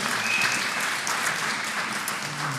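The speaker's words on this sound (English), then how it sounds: "let me ask that we refrain from applause" Applause breaks out during a business session: a steady patter of many hands clapping, even and sustained in a large room, with no voices.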